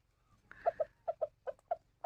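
Free-range village hens cluck in short, separate bursts as they gather to eat feed, a run of about eight soft clucks at close range over quiet background.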